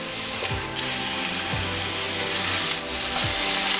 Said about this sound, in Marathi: आता गॅस फुल करूया आणि 2 ते 3 मिनिटं परतून घेऊया.